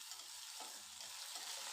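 Ripe chopped apple tomatoes frying in oil for a Coorg-style dry fish curry, a steady close hiss of sizzling with soft stirring scrapes throughout, no voices.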